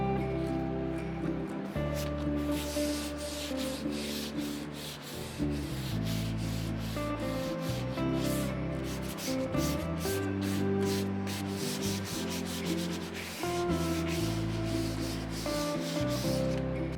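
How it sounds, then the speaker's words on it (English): Rhythmic rubbing and scraping of sanding on a wooden lounge chair, repeated strokes up close, with background music playing underneath. "there's a little bit more sanding needed to be done"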